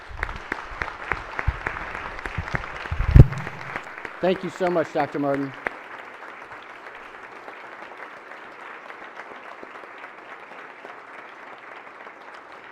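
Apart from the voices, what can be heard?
Senate chamber applause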